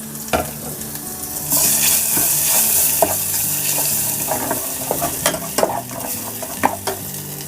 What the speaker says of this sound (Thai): ขั้นตอนแรกเราใส่น้ำมันพืชลงไปเล็กน้อยนะคะ ตามด้วยกระเทียมกับรากผักชีค่ะ ผัดให้หอมเลยค่ะ